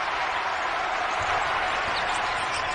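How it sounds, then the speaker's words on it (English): Noisy small crowd murmuring and cheering steadily throughout, moderately loud and continuous, at a Kansas Jayhawks college basketball game in Lawrence. "Sounds like a noisy small crowd in Lawrence tonight"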